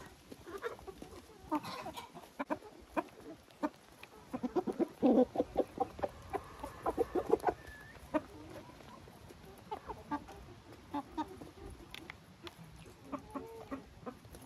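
Hens cluck and scratch at feed in a bowl or bucket, sounding as repeated close clucks and scratchy scuffling taps in an irregular rhythm, busiest in the middle, with a rooster-like call at times.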